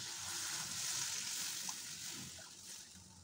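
Water poured into spice paste frying in a pan for a green pabda fish curry gives a steady broadband hiss and sizzle with a faint watery slosh, continuous and moderately close.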